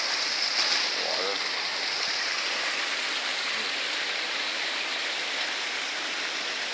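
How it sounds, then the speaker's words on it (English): Steady rushing water flows over rocks in Old Akko, a continuous broadband wash that stays even and moderately loud throughout, with a brief faint voice near the start. "Water."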